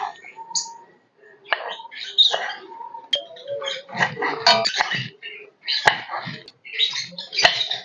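A knife cuts through raw green tomatoes, giving irregular sharp chops and clicks on a board, with small clattering sounds and bird chirps between the cuts.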